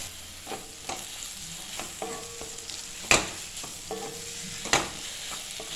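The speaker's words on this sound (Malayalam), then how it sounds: "തക്കാളിയും കൂടെ ചേർത്ത് നന്നായിട്ടൊന്ന് വഴറ്റി കൊടുക്കുക" Three ripe medium tomatoes being sautéed in a pan for a fried onion chicken roast: a soft, steady sizzle with stirring scrapes and a few sharper spatula clinks against the pan.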